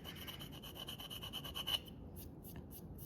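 A tool scrapes chocolate coating off a Nutter Butter cookie with quiet, rapid scratching rubs, close and faint, that stop after a couple of seconds, followed by a few soft taps.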